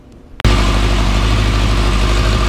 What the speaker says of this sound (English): So I'm going to start the bike up, and we're going to see what we see.